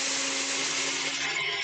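A blender whirs steadily as it purees a black bean brownie mixture, a constant, fairly loud grinding drone with no voices over it.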